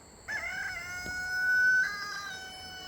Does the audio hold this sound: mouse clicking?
no